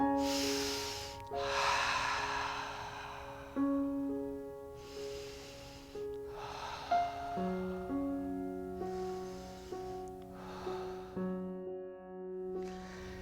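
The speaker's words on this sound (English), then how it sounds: "let's take 3 deep cleansing breaths" Several slow, deep breaths drawn in and let out during a gentle Soma-Kinetics breathing exercise, soft airy swells rising and falling at close range over a steady background of sustained musical tones.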